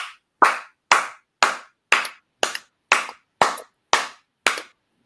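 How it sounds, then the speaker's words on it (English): Ten sharp, evenly spaced claps from an audience at the 5:30 Scholars tournament ring out in unison, each a crisp loud hit with a quick decay, alone with no talking. "y'all give Grasshopper 10 claps, 5 from last year, 5 from this year"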